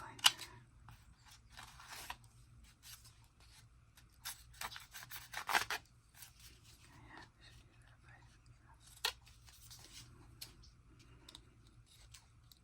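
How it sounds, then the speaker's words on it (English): Scissors trim the uneven edge of a substrate, making faint, intermittent snips, rubs and small mechanical clicks at close range in a quiet room. "I think I'm going to just try and trim it up a little bit"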